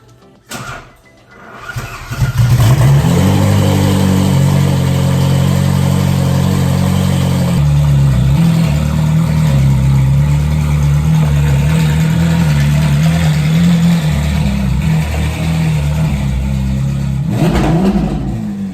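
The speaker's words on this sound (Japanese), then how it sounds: "エンジンがかから ないかな、かかるかな" A Nissan Fairlady Z S30 engine cranks after sitting without a connected battery, catches and starts, then revs loudly and settles into a steady, rumbling idle with a final rev near the end.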